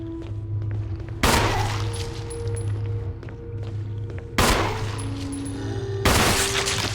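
Pistol shots at a zombie in Resident Evil HD Remaster ring out three times, loud and sharp at a steady spacing, over a constant low ambient game drone.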